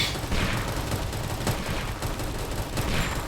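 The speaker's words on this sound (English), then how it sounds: "And here are my airstrikes coming in handy as the boss spawns, and I absolutely airstrike the heck out of those enemies" Airstrike explosions and rapid gunfire in Roblox Tower Defense Simulator during a boss spawn, forming a dense, continuous barrage of loud blasts and shots throughout.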